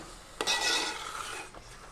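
Arrowroot payasam being stirred in a pot, one brief scraping stroke of a ladle followed by a soft rubbing swirl that fades, close and quiet, with no talking.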